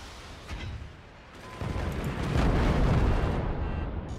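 Cannon fire in the video game Forts: a dull low rumble swells into a heavy, sustained explosive roar that lingers and slowly fades, with no voices.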